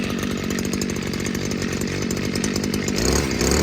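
A Stihl FS94R string trimmer engine runs close and loud, a buzzing two-stroke drone that rises in pitch near the end as the throttle opens.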